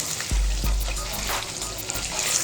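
Chicken white qorma gets stirred in a karahi pan, with two soft knocks of the spoon at the start followed by a gentle bubbling sizzle and moist stirring sounds.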